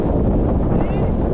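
Strong wind roars over a small boat at sea in rough water, a loud continuous buffeting rush with waves churning beneath it throughout.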